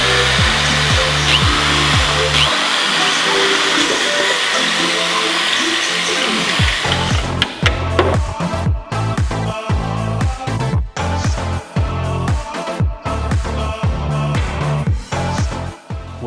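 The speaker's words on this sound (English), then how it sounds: "Starting with a little smaller bit, I'm gonna work my way up to make sure the hole is the right size" A power drill bores holes in a carbon fiber widebody front fender on a Nissan R35 GT-R, stepping up from a small bit. A steady motor whine runs early on, then gives way to a dense string of sharp clicks and knocks, close and loud.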